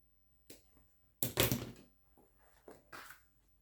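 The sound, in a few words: scissors cutting fabric while sewing a zipper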